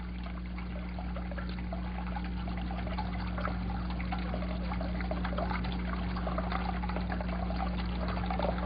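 Water slowly released from a container trickles and dribbles in a steady, continuous stream under a low electrical hum, with no talking.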